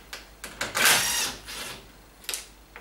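A screwdriver undoes Torx screws on the lid of a heat pump tumble dryer, giving a loud close burst of grinding and scraping followed by a few shorter clicks and rattles.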